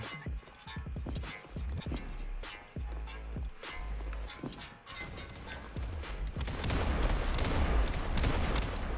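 Gunshots in the Roblox game Counter Blox, with a string of sharp, close shots followed by denser rapid fire that builds toward the end.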